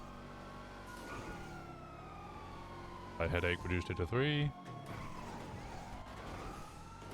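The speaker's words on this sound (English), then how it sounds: "I think I hear a second siren, but I don't see him." Police siren in a video game driving chase, a wailing tone sweeping steadily through the background while someone talks over it and brief game sounds flare up midway.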